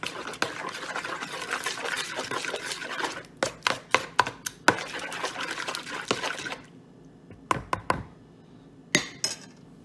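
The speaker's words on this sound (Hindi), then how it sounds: "अब मैं अपना मक्खन डालूंगी अंदर। इसको भी अच्छी तरह से मिलाना है।" Butter being mixed into egg bread batter, a run of wet, sticky slapping and stirring strokes, close and moderately loud, followed by scattered separate knocks and scrapes against the bowl with quiet gaps.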